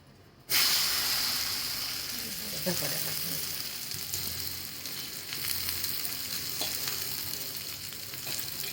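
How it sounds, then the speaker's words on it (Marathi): Dahi dhapate flatbread hits a hot greased tava and sizzles loudly and steadily, a continuous close frying hiss with faint background clatter. "असा धपाटा बघ आता तव्यावरती टाकून घेते मी तो"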